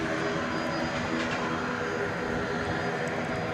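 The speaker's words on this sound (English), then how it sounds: "I hear a propeller plane. Do you hear that?" A propeller plane flies near DFW airport at night, giving a steady, continuous engine drone that stays loud and even throughout, without any talk over it.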